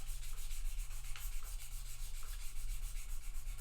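Fine-grit sandpaper rubbing back and forth over guitar frets, a steady, soft, rhythmic scratching heard close up with no talking.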